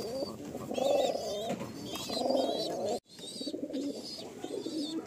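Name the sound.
pigeons cooing (Madrasi pigeon pair)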